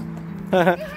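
A dog gives one short, close, tonal bark or yip in the middle, with a steady low background hum before and after.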